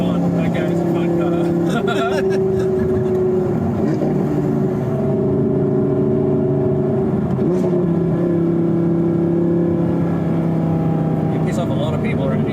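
An Audi R8 V10 plus engine revving while driving, a loud sustained engine drone with shifting pitch from inside the car, heard under people talking.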